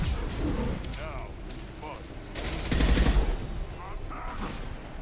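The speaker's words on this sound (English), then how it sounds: "Incoming! Taking heavy fire!" Heavy gunfire in the video game Mass Effect 2 crackles and bursts through a chaotic firefight. A louder volley swells in the middle, and battle voices call out over the shooting.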